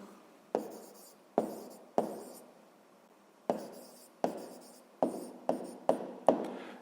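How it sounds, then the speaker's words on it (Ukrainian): A pen writes on paper while someone notes down the answer to a sixth-grade maths exercise, giving a series of close, distinct strokes and taps in separate bursts, with short quiet gaps between them and no talking. "Записуємо відповідь."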